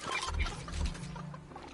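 Chickens cluck in a Fortnite tycoon game, a few short, close clucks bunched in the first second and then fading into softer chatter.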